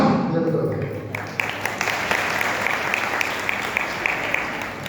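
A crowd at a religious sermon claps steadily in a sustained round of applause, loud and close, with a voice faintly underneath.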